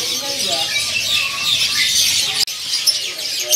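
Kutilang (sooty-headed bulbul) birds chirp inside a bird shop, a dense run of high tweets and calls close by, broken for an instant by a sharp gap.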